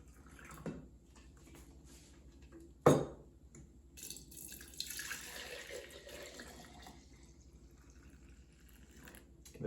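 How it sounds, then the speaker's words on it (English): Milk warmed to about 115 degrees is poured into four containers for homemade yogurt, giving a soft, steady liquid trickle with a sharp clunk of a container early on, fairly quiet overall. "here's the milk at about 115 being poured in to my 4 containers"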